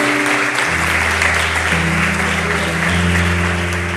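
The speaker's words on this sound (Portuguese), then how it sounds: "Você pode aplaudir o nome do Senhor?" Congregation applause fills a church during a Portuguese-language sermon, loud, dense and sustained for the whole stretch, with a steady organ or keyboard chord droning beneath it.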